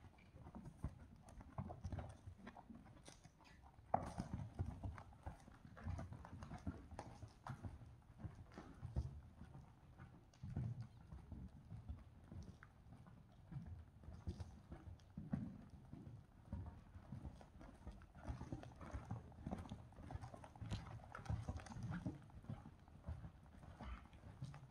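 A ridden horse's hooves beat on the ground in a steady, repeating rhythm of soft clip-clop footfalls, moderately close and fairly quiet, continuing for the whole stretch without talk.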